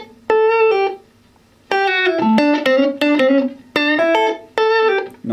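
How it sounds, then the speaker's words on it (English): Clean electric guitar chords and arpeggios through a compressor pedal on a Minson M7 multi-effects unit, with an even, squashed, sustained tone, played in several short phrases with brief pauses between them. "That's a pretty decent sounding compressor."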